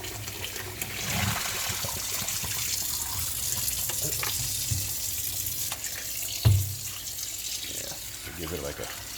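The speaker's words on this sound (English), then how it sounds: "Those are all things you can rinse meat off with" Bulgogi meat is rinsed under a running kitchen tap, giving a steady close stream of water with occasional splashes and a brief clunk, while people talk over it.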